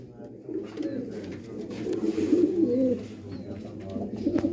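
Galotu pigeons cooing close by, a steady low burbling of overlapping coos that swells and dips, with a voice talking faintly underneath.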